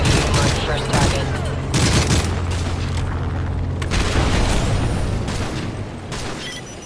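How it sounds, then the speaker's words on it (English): A-10 gun runs and explosions in Call of Duty: Modern Warfare 3, loud rapid cannon bursts and heavy booms in quick succession under military radio chatter, fading toward the end. "The air corridor is clear for our A-10s to commence gun runs."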